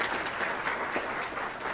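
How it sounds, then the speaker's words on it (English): An audience at a State Bar of Texas Law Day 2019 awards event applauds for a third-place winner, a dense, steady round of clapping from many hands, fairly close and sustained throughout. "we'll still give her a round of applause."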